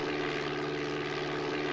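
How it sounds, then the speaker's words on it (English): A propeller airplane engine drones in Microsoft Flight Simulator 4, played through a PC speaker as a flat, constant buzzing tone with no variation or voices. "the plane sound was just a PC speaker drone"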